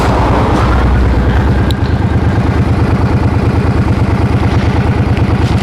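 A Suzuki M50 motorcycle runs close by with its radiator fan going, the engine thumping in a rapid, even, loud rhythm that dominates throughout.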